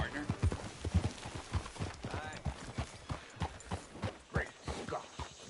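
Horse hooves clip-clopping at a walking pace in Red Dead Redemption 2 as the horse is brought up to be hitched, an irregular series of soft thuds close by with faint background game ambience.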